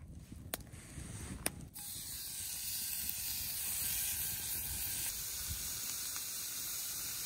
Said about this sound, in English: I'm gonna make the bacon first because, again, I want to have a layer of grease in there